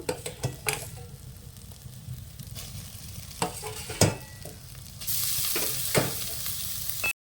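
Bottle gourd leaves stirred into sizzling spice paste in a karai, with a steady frying hiss, scraping stirs and occasional sharp clinks. The sizzle grows louder and brighter in the final stretch, and no one speaks.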